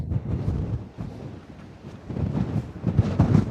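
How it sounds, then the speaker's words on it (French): Strong gusting wind above 100 km/h buffets the microphone at a Florida Keys bridge fishing spot, a loud continuous roaring rumble that surges and dips, with heavier bursts toward the end and no one talking. "Le vent dépasse 100 km/h ici."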